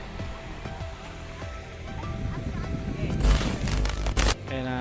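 A river flows beside a campsite with a steady broadband rush that swells slightly toward the end, while voices murmur faintly in the background.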